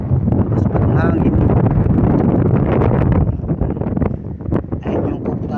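Strong wind buffets the microphone with a constant roaring rumble, loud and close, masking most other sound.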